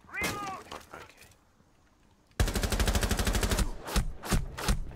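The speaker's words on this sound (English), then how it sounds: "They're shooting at me." Rapid automatic gunfire in the game Rainbow Six Siege, with an opening burst, a quiet pause, then a sustained loud stream of shots followed by a few separate bursts, all close and dominant.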